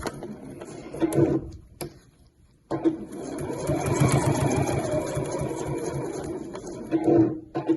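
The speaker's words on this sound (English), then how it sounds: "I do a couple of back stitches to get myself started, and then I'm just going to sew down into that corner to begin with." A sewing machine stitches the corner of a folded-edge placemat, starting with a couple of short back-stitch bursts and then running steadily for several seconds before slowing.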